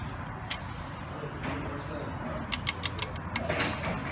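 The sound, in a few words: torque wrench clicking at 19 foot-pounds on oil change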